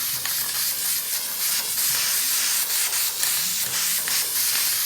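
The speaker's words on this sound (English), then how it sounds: "And you just want to continue to spray this" Steady hissing spray from an aerosol can of sealant over a glitter wall, continuous and close, with brief dips and a faint rubbing undertone.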